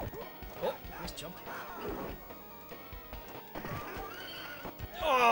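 Horses in a Capcom arcade video game neigh and clatter their hooves, mixed with game hits and crashes and a shrill whinny near the end, under a busy soundtrack while someone talks.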